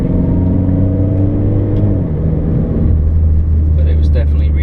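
Mitsubishi Evo X MR engine under about 30% throttle in second gear, a loud, steady droning rumble with tones rising then dropping as it pulls and shifts, heard from inside the car with a voice talking over it.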